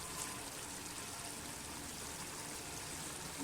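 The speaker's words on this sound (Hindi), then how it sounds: "चावल और डाल दें, मेजरमेंट के साथ पानी भी डाल दें" Water poured into a pot of rice while making aloo matar pulao, a steady faint rushing pour without breaks, heard alone.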